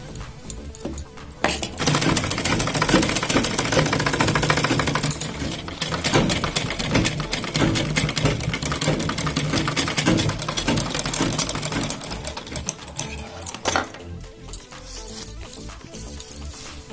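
A sewing machine runs along the side seam of a kurti, producing a loud, rapid rattling stitch that carries on almost continuously for most of the stretch, close up, with brief quieter moments at the start and end.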